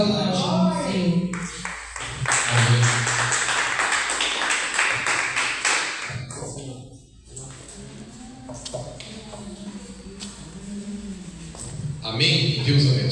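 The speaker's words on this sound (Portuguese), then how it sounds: "uma salva de palmas para Deus ao nome" A church congregation claps for about six seconds in a dense burst, with voices under it. The clapping then gives way to talk, and a few more claps come back near the end.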